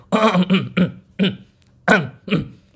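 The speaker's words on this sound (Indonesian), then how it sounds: "Walaupun 2-3 kali dehem enggak masalah." Several short, sharp throat clearings come in a loose series of about six bursts, close and fairly loud, with no talk between them.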